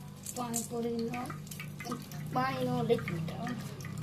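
Pani puri water being poured and stirred at home, a soft liquid splash and trickle heard faintly beneath people chatting nearby.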